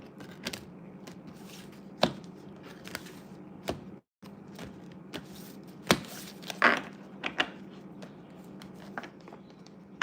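Papery riffling and slapping of a deck being shuffled, in irregular bursts with sharp snaps, close up over a steady low hum.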